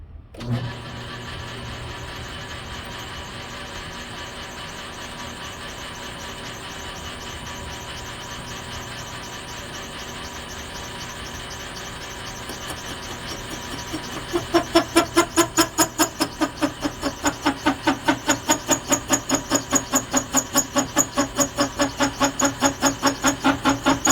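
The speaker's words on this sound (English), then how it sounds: "So I just have to work on cutting the weld off." A power tool cuts the weld off an exhaust header flange from a Lamborghini Anza exhaust, starting as a steady mechanical whir and then turning into a louder, fast rhythmic pulsing chatter for the second half, with no talking.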